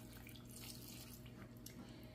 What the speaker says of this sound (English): to that I'm going in with a cup of water